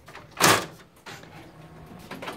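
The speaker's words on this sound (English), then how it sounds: "I'm going to close the side door." Side door of a Konica Minolta Bizhub C554e copier swinging shut, a single loud close followed by fainter latch and settling clicks, close by with no talk.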